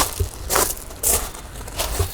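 Old sprayed concrete render being scraped and broken off a chateau wall, several rough crunching scrapes in irregular bursts, close and fairly loud.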